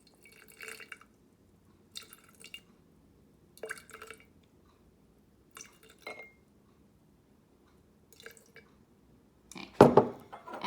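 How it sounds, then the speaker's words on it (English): Lukewarm water being poured in small splashes into a jar of sourdough starter, several brief trickling bursts separated by silence, ending with a louder clink of glass. "So now I'm feeding it with"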